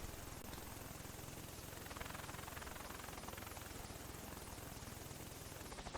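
Helicopter in the war shooter Red Crucible 2 during a sandstorm map, a steady dense rotor and engine roar that fills the whole stretch at constant loudness with no talk over it.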